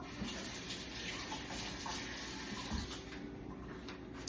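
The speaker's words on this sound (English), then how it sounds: "let me wash my hands off." Tap water runs steadily at a sink while hands are washed in a kitchen, a constant close rushing wash with no speech.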